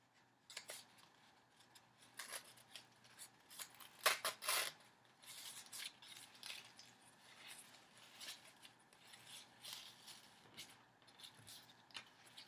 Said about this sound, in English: I'm going to take my scissors and finish off the edges of that ribbon.